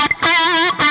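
An electric guitar played through a Laney IRF Loudpedal with the boost engaged, a loud, heavily distorted sustained chord with a gritty, saturated tone that briefly chokes off and restarts.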